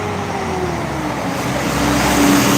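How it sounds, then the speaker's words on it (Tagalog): Road traffic on the main highway of San Pablo City, Laguna: a steady, fairly loud roar of cars and larger vehicles moving nearby, with an engine hum swelling slightly toward the end and no talking. "Grabe palang traffic dito sa San Pablo."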